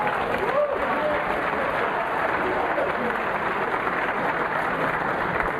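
A crowd at a Mosconi Cup pool match applauds a safety shot with a steady wash of clapping that keeps going the whole time, mixed with faint murmurs and a bit of background talk.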